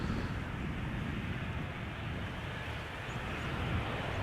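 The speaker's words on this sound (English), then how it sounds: "This is KLM flight 1930 arriving from Geneva. 737-700" A KLM Boeing 737-700, registration PH-BGF and 15 years old, arriving from Geneva at Amsterdam Schiphol, makes a steady, loud, broadband jet roar that holds constant throughout with wind-like rushing and no talk.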